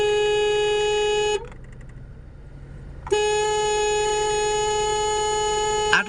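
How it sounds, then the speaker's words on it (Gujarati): Two long, loud, steady blasts of a car horn on an asphalt road in Bodeli taluka, Chhota Udepur, with a short quiet gap between them and faint road noise underneath. "આટલો જોરદાર હોર્ન વાગે છે"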